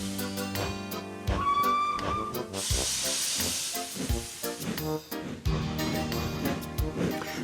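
Steam hisses from a steam locomotive as its fire is lit and steam is raised, a brief rushing hiss heard in the middle of a busy music backdrop.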